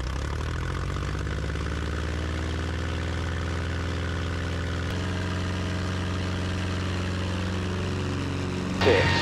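Vintage Navion propeller airplane throttling up for takeoff on runway 36, a loud, steady, droning engine with rising propeller tones heard from inside the cockpit, ending in a brief burst of wind noise.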